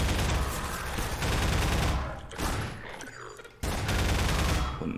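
Heavy gunfire in Half-Life 2 while pinned down and under attack, loud sustained bursts that drop briefly twice before roaring back, with someone talking over parts of it.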